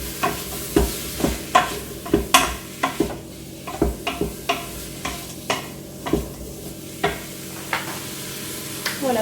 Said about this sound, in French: on va laisser revenir ça un petit peu. Voilà, donc le temps que mes oignons reviennent